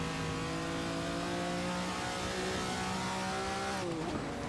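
A Ferrari 250 Testa Rossa race car engine revs loud and close, holding a steady high whine that dips as the driver lifts near the end, with no talking over it.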